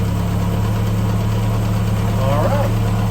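An A-Series car engine with SU HS2 carburetors idles steadily with a low, constant hum and rumble throughout, fairly close, with faint background noise.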